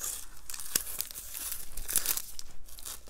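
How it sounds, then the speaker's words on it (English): Cardboard being peeled and torn off the back of a watercolor pad, a close, continuous ripping and crinkling with several sharper tearing bursts. "I'm peeling some of the cardboard off"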